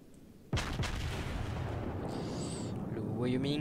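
A loud boom of the battleship Wyoming's heavy naval guns firing in World of Warships, followed by a sustained rumbling roar with faint voices underneath.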